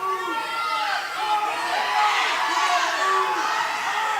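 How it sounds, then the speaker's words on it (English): Spectators at a high school wrestling match between Sully Buttes and Potter County cheer and shout steadily, a dense, lively crowd roar with voices rising and falling throughout. "Crowd really getting into it, as you can probably hear."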